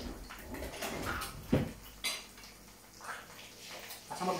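Metal spoon and dishes handled in a home kitchen while cooking rice and a puff pastry tart, with a few sharp clinks and clatters over a steady background hum.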